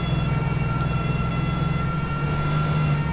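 Police car siren in the Altis Life video game, a loud continuous wail with a sustained tone over a heavy engine rumble throughout, no speech.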